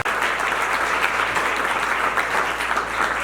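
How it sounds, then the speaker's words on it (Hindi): Loud, sustained applause from a large crowd, with thick, even clapping from start to finish. "मैं चाहूंगा इसके लिए तालियां तो बनती हैं सर के लिए।"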